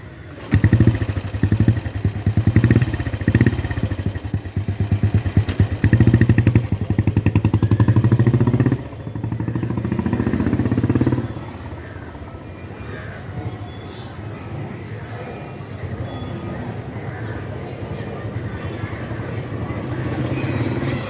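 An old standard Royal Enfield Bullet motorcycle thumps loudly up close on a test drive, its engine pulsing and revving in the opening seconds before easing into a steadier, quieter running drone.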